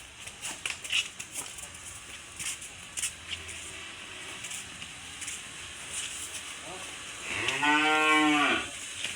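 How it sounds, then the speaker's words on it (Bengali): Cattle being driven away by truck, with one loud drawn-out moo near the end, close by over outdoor background noise and scattered faint sounds. "এই তো গরুগুলো নিয়ে যাচ্ছে আর হামলাচ্ছে।"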